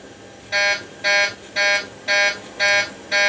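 A takeoff configuration warning alarm in an X-Plane 11 flight simulator sounds six evenly spaced buzzing beeps, each about a third of a second, loud and steady over a low background hum.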